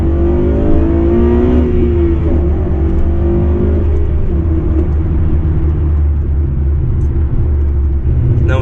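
A naturally aspirated Honda Civic Type-R FN2 engine revs and pulls under acceleration, a loud steady drone that climbs in pitch over the first seconds and then holds a constant rumbling tone close by.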